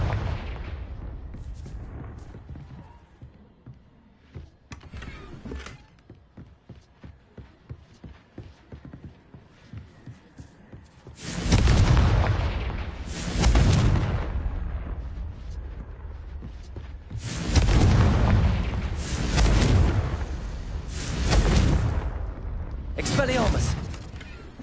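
Booming fiery spell blasts in Hogwarts Legacy, several loud explosions in a cluster with rumbling tails, after quieter clattering footsteps and a voice speaking during play.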